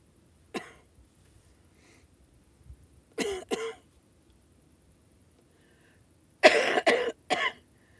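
Several harsh coughs in separate bursts: one alone, then a pair, then a cluster of three, close and fairly loud against near silence.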